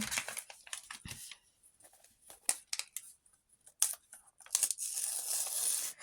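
A paper surprise packet is torn open up close, with sharp bursts of ripping and crinkling between quiet pauses, then a longer stretch of rustling paper.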